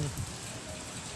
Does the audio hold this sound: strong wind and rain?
yes